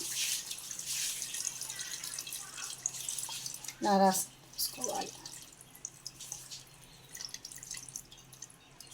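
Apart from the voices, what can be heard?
tamarind juice dripping into pot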